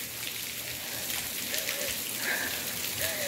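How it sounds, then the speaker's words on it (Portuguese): Heavy rain pours down in a steady, dense hiss that fills the whole stretch, close and constant with no voices. "Que chuva, hein?"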